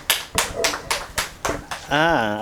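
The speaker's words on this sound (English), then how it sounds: "It's the ladies clapping, huh?" A group of women clap in a quick, steady rhythm of about seven sharp, close claps, and then a voice starts talking.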